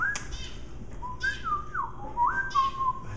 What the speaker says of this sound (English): look at the birdies. We have lots of birdies over here.